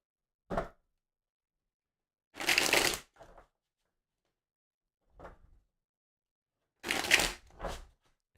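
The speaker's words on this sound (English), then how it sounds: "Let me shuffle this real quick." Several quiet bursts of tarot cards being shuffled and riffled, short rustling bursts separated by silent pauses, close up and otherwise quiet.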